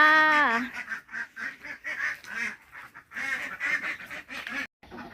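Ducks in a coop at a rural home give a run of loud, nasal quacks in quick bursts, close and repeated with short gaps between calls, sometimes overlapping.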